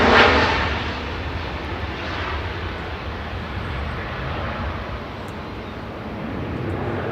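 An airliner departing from runway 05 left at Manchester Airport sends out a broad, continuous engine roar that stays loud and steady throughout, with no voices.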